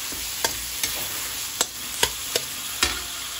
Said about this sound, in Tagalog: Lalagay na natin yung ating miso. Ibigisan yung miso nyo. Bisa nyo rito sa ating kamatis.